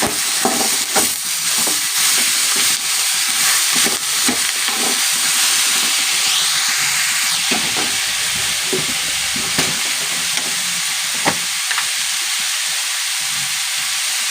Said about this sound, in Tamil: கருவேப்பிலை போட்டுக்கலாம் போட்டு நல்லா வதக்கி விட்டுட்டு